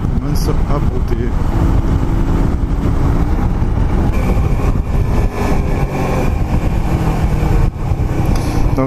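A Honda Shadow 125 motorcycle engine starts to run rough during riding, a loud continuous rumble mixed with wind and road noise while someone talks over it.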